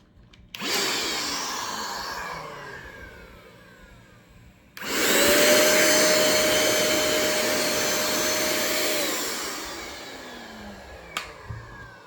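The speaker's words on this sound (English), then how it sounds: "So this one's a cordless paint sprayer, model number RH-W37." A cordless RH-W37 paint sprayer, 200 watts, running on a DeWalt 20V battery: two loud, close whirring motor bursts, the first fading as it winds down, the second longer and steadier, then a few clicks.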